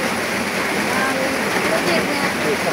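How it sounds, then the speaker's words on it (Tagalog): Steady, dense hiss of rain falling continuously, close and fairly loud, with no clear breaks throughout. "Kasi inabot kami ng ulan."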